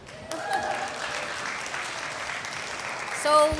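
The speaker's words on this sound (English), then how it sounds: "Can we have a round of applause for our fantastic host, Femi?" Applause for the host at a panel event on gender-just climate finance, steady clapping from a seated audience that swells slightly near the end, with a voice briefly audible.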